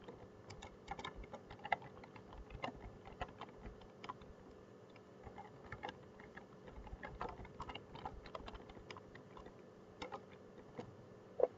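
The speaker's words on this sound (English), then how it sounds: "So we're going to go ahead and type an alert." Steady typing on a computer keyboard, keys clicking in quick irregular bursts at close range, with no voices.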